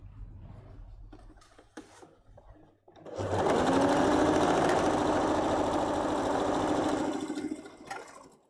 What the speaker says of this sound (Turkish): Şöyle dikiyorum.